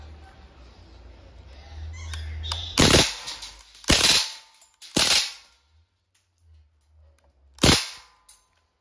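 Crosman A4-P steel ball airgun fired outdoors, with four sharp loud cracks spaced about a second apart against a low background rumble, followed by a pause and one more crack.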